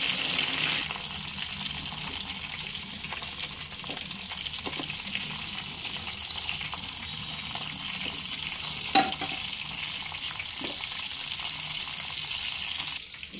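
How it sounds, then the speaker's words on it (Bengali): Rohu fish heads frying in oil over a medium flame produce a strong, even sizzle close by, with occasional light knocks of a spatula turning them. "মিডিয়াম ফ্লেমে একটু সময় নিয়ে উল্টে পাল্টে মাছের মাথাগুলো খুব ভালোভাবে ভেজে নিয়েছি"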